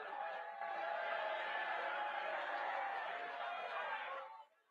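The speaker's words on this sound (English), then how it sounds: "Get your booing out" A crowd at a national political party convention in Washington lets out a sustained, distant mass of booing and jeering voices, steady for several seconds before it cuts off.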